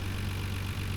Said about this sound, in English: The RB26, you can really hear the difference between a good firing engine and a bad firing one